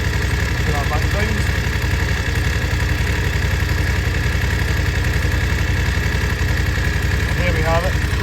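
A 2022 BMW F750GS motorcycle engine idles steadily and evenly throughout, a continuous low rumble up close with no revving.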